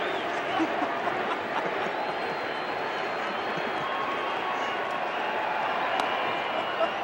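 A packed baseball stadium crowd at the 1987 World Series roars in a broad, sustained wash of cheering and clapping, steady and loud throughout, with a broadcast voice faintly underneath.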